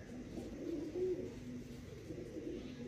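Soft, low pigeon coos repeat in a steady murmur, close by, with a faint background hum and no talking.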